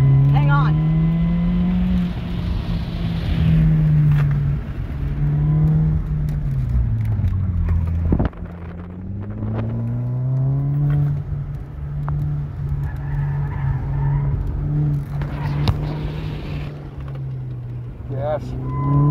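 A Volkswagen Jetta engine drones loud and steady as the car runs an autocross course, its pitch rising and falling through shifts and corners, with a brief sharp knock midway and voices talking over it.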